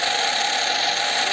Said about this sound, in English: I'm just riding my bike.